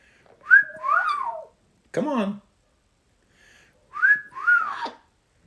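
A pet bird whistles two rising, sliding phrases, repeated a few seconds apart, close and clear, with someone briefly speaking between them.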